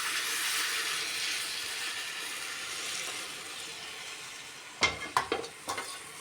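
Beef and tapioca sizzle steadily in a cooking pan as they are stirred, then a few sharp scraping clatters from the stirring utensil sound near the end.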